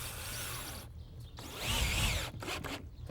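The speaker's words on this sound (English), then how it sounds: "First by screwing the bottom rail into the end of the one end of the baluster." A power drill drives a screw through a wooden porch bottom rail into the end of a baluster, whirring in short bursts that are broken by pauses and a louder, strained stretch near the middle, close up with no talk.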